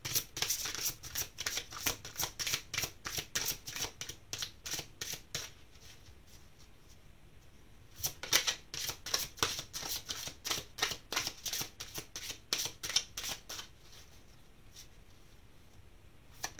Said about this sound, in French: On va tirer des cartes d'oracle.